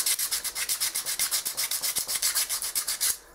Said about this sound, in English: The more that I sand and try and take out the little imperfections and the bumps